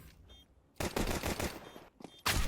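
Gunfire in Counter-Strike: quiet game ambience, then a loud burst of rapid shots that runs for over a second, stops, and picks up again in a short final burst.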